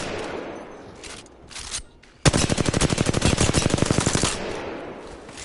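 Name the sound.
assault rifle gunfire in video game Apex Legends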